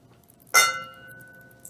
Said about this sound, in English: Now we can clink.